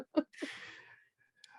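A single sneeze, a short sharp breath intake followed by a loud hissing burst, with a faint blessing spoken afterward.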